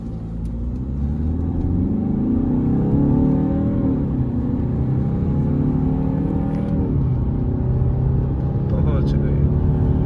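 An Audi A6 in sport mode accelerating from 0 to 100: a loud, continuous engine drone climbs in pitch, drops at a couple of gear shifts, then climbs again, heard from inside the car.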